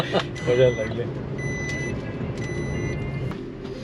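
A car being driven on a first day of driving lessons gives a low steady engine and road rumble throughout, with a brief thump early on and faint high tonal whines above.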